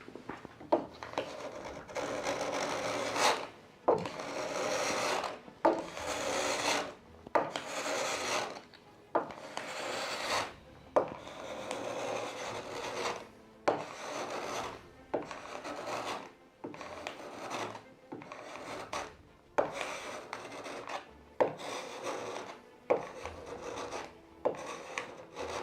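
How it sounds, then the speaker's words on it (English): A hand scraper is drawn repeatedly across a wooden door during restoration, making a rough, rasping scrape in steady strokes of about a second each with short pauses, close and fairly loud. "First with the scraper, so it's less sanding."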